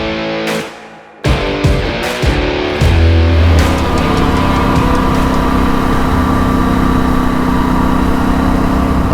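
A motorcycle engine starts up with a few sharp revs, then settles into a loud, steady drone as it rides on pavement, the sound close and continuous.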